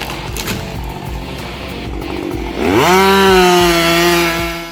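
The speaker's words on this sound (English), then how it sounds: "the roar of chainsaws brings a feeling of excitement and power" A big chainsaw cutting a tree in forestry work, idling with a rough buzz before revving up into a loud, steady high-pitched roar that holds for several seconds close by.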